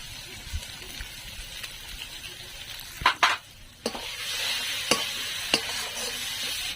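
Ground turmeric goes into spices and slit green chillies frying in a pan, a soft steady sizzle with clinks of a spoon and scraping stirs scattered across it, close and fairly quiet.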